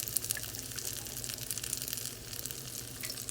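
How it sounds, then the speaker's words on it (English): Tap water runs steadily into a pot being rinsed in a home kitchen sink, a soft continuous hiss and splash at low volume with no voices. "So I'm rinsing this pot out."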